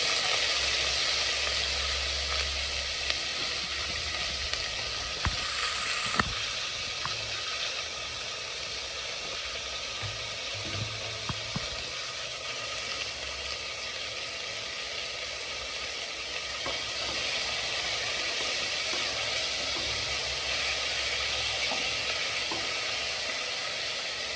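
Onions sizzle steadily in hot oil, a constant crackling hiss with a few brief clicks from stirring, heard close with no talking.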